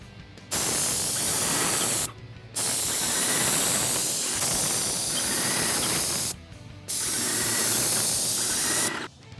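Steady hiss of a Wagner Control Pro airless paint sprayer spraying stain in long bursts, broken by a few short pauses where the spray cuts off between passes.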